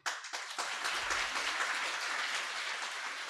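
An audience at a gathering with a Jain monk bursts into clapping after a short pause and keeps up a steady, even wash of applause, soft and somewhat distant, with no talk over it.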